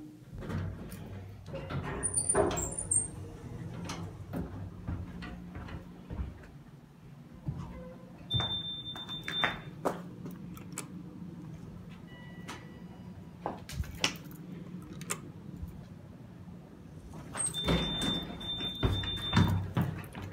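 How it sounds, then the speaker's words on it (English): A Thyssenkrupp hydraulic elevator at an outpatient center sounds a steady high-pitched door buzzer twice, each lasting about a second, while its sliding doors rumble open and shut amid quiet indoor room noise. "This also has the door buzz."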